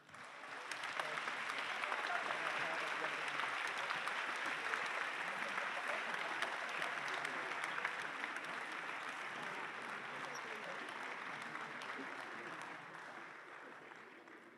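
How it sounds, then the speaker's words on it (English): An audience applauds at a closing ceremony, a dense, sustained round of clapping that swells quickly, holds steady and slowly fades toward the end, with no talking over it. "I would like to ask a big round of applause to David."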